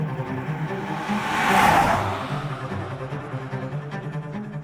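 A Rolls-Royce Spectre's cabin while driving holds a steady, subdued low road hum, with one brief swelling whoosh partway through, no talk.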